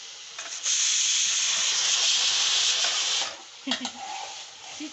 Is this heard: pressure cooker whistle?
yes